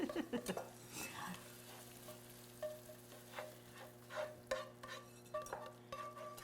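Zucchini and garlic frying in a pan while being stirred, with a steady quiet sizzle broken by scattered scrapes and clinks of a utensil against the pan, close by and without talk.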